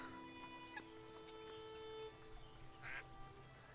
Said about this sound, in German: schaut euch das mal an, kleine Entchen. Enten!